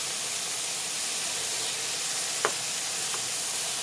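Butterbur kinpira stir-frying in a pan, a constant close hiss and sizzle of ingredients in hot oil with a couple of faint utensil scrapes, no voices.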